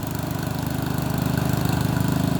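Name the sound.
Craftsman 14HP OHV riding lawn tractor engine running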